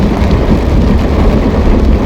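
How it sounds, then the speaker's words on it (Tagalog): Heavy rain roars steadily during a drive, a dense wash of noise, loud and close, with a low rumble underneath. "malakas ang ulan"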